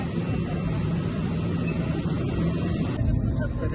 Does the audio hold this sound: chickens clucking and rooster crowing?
no